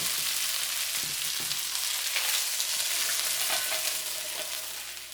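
Fish browns in a hot frying pan with a dense, steady, close-up sizzle and crackle, a few faint clinks and stirring touches showing through.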